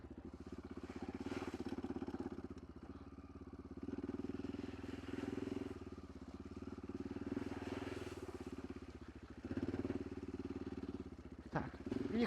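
A Kovi ADT 300 enduro motorcycle rides off-road along a rut, its mid-pitched engine droning steadily up close with slight surges and clattering from the rough ground.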